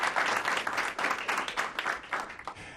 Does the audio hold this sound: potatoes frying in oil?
no